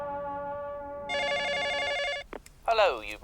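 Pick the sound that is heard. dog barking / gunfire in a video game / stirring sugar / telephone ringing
telephone ringing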